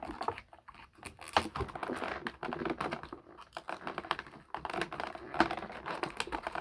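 A Tony Stark collectible figure is twisted free of the wire ties holding it in its plastic packaging, a run of close, quiet ticks, crinkles and small plastic clicks in an uneven patter.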